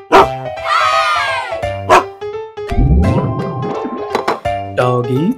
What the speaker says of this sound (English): Dog eats bone.